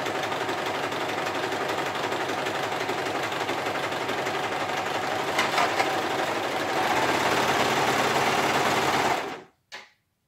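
A Pfaff Element 1450ol overlocker runs a steady, continuous test seam for about nine seconds, loud and alone, with a slight rise partway through before stopping abruptly.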